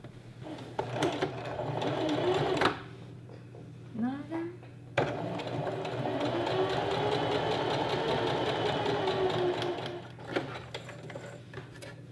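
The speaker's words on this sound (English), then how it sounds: "So we just want to sew that down so that when we turn it inside out, we have a finished look." Sewing machine stitching down the edge of a knife pleat maxi skirt, a close steady whirring run that stops and restarts twice, with a voice speaking over it between and during the runs.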